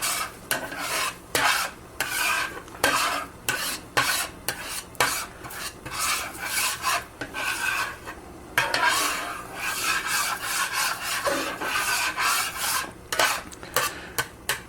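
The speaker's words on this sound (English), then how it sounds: "Give that a good stir." Fresh thyme is stirred into a cooking pan with a utensil, giving repeated rough scraping strokes against the metal over a soft sizzle, in an uneven but steady rhythm close by.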